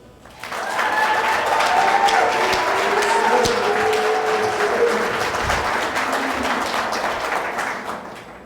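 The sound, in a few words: wedding guests applauding the bride and groom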